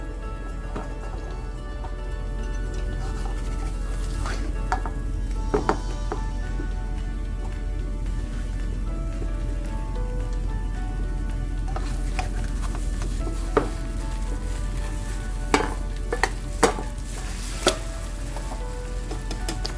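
An egg and a tortilla fry together in a pan for a burrito, a steady close sizzle running throughout with occasional light clicks and scrapes as the tortilla is flipped, and nobody speaks.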